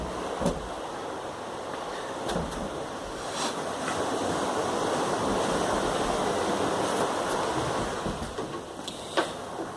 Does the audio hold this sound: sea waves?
yes